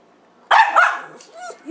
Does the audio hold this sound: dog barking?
yes